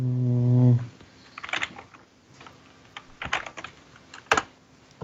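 Computer keyboard typing in quick irregular bursts of clicks and taps, close and fairly clear, following a brief tonal sound at the start, with no talking.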